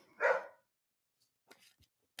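A dog lets out a single short bark, fairly close, followed by quiet scraps of faint sound in an otherwise silent space.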